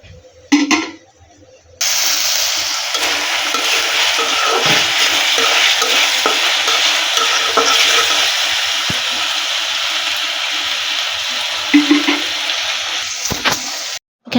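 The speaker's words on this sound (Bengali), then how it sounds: "এখানে আমি আদা রসুন দিয়ে কিছুক্ষণ ভেজে নিয়েছি।" Ginger garlic paste frying for momo filling, a loud continuous sizzle that starts abruptly after a short quiet opening, with occasional stirring knocks, heard close up without speech.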